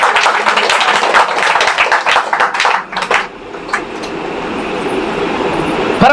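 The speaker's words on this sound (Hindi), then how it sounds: "ताली बजा के परमेश्वर का नाम को महिमा करेंगे।" A church congregation claps in unison to glorify God, a dense rapid run of many hands for about three seconds, then fading into a quieter room hum.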